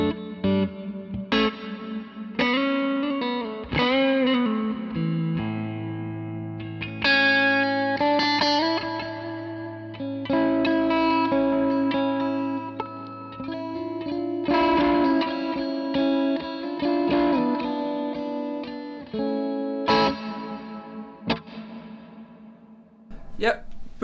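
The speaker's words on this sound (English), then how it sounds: "This is my big reverb sound." An electric guitar played through a pedalboard set for a big reverb sound rings out in sustained chords and single notes with long washy tails and some grit, loud and continuous for over twenty seconds.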